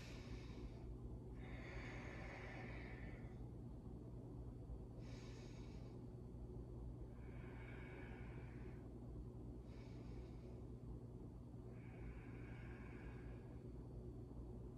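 Deep breathing during a relaxing yoga flow, four or five slow breaths, each an audible airy whoosh lasting about a second, evenly spaced over a quiet low background hum.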